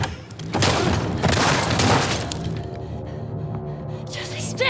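A gunshot in The Last of Us Part II lands as a sharp crack with a booming, reverberant tail, followed by ambient game sound and faint voices.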